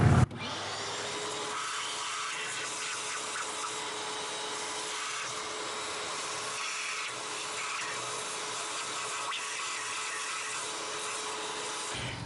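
Shop vacuum cleaning out the lifter galleys of a Chevy 5.3 Vortec LS engine, with a continuous close motor drone and a hissing airflow that shifts slightly as the nozzle moves.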